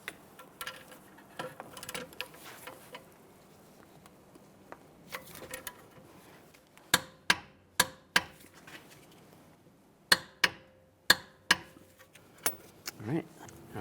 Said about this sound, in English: we'll torque these down to 85 foot-pounds